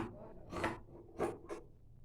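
Scissors snip through trouser fabric in three short, quiet cutting strokes, close up, with faint rustling between them.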